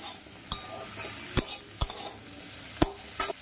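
Young jackfruit with turmeric and salt fries in a pan, a soft sizzle broken by four or five sharp metallic scrapes and clinks of a spatula against the pan.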